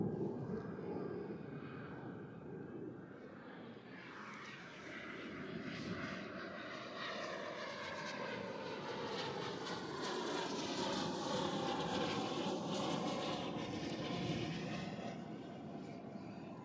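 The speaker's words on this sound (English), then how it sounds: "with that climb out of this United 767-400 to LAX" A United Boeing 767-400 jet climbs out after taking off from runway 16 at Zurich Airport. Its broad, steady engine roar swells slightly, heard from a distance, with no voices.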